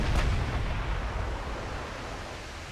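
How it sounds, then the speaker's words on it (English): 16-inch battleship guns firing in the naval game Ultimate Admiral Dreadnoughts, a heavy booming blast that rolls out into a long, slowly fading rumble. "The 16-inch guns found a mark."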